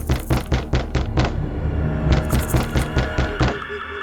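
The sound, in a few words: knocking on a door sound effect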